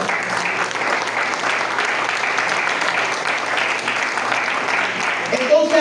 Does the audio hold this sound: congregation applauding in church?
yes